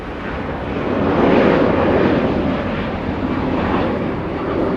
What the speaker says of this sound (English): Very heavy on 25 right. That was a very heavy departure.